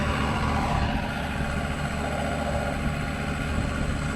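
A John Deere 4430 tractor engine running at a steady idle, a loud, even diesel rumble with a constant drone and no talk.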